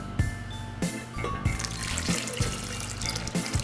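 Liquid pours into a blender for a green smoothie, making a steady splashing trickle with a few soft knocks and clinks nearby.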